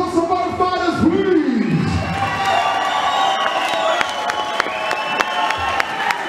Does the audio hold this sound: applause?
yes